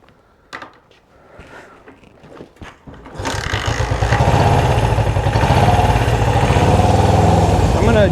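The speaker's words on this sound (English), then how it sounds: "see if I can get this thing to start up and actually idle" A Honda CB360 motorcycle engine cranks with a few sputtering attempts, then catches and settles into a loud, steady idle close by.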